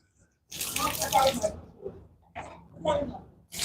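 Water runs from a tap in two bursts, splashing as a hat is wet to soften it, with a voice speaking nearby.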